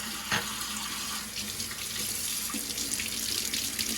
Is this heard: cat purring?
no